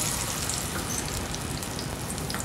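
Ground spice paste with turmeric sizzles and crackles steadily in hot oil, a dense continuous frying hiss close up with no talk.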